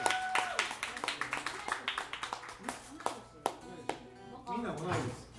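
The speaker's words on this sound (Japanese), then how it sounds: "みんな拍手で" At an unplugged live show, an audience claps along in time to a song with a steady, sharp rhythmic beat, while guitar-like tones ring underneath and voices sit faintly in the background.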